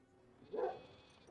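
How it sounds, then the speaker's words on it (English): Dogs in the Tetris City Builder River Towns game give a single brief bark-like yip, moderately loud against a quiet background. "Dogs."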